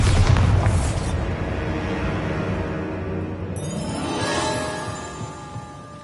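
A Bombarda spell in the Hogwarts video game bursts with a heavy boom that rumbles and fades, followed by a second sparkling, crackling blast a few seconds later, with no talking.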